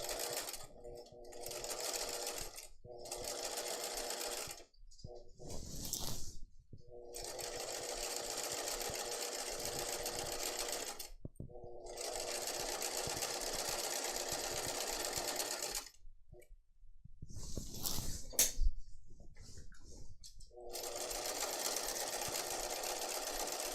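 Sewing machine stitching a Leschi top, running in several close bursts of steady whirring separated by short pauses, with a voice speaking in the gaps.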